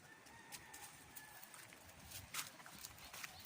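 Chickens cluck and squawk in short bursts across an outdoor yard, with other birds chirping faintly in the background; no one speaks.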